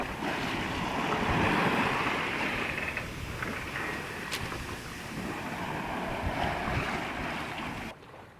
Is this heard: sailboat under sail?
yes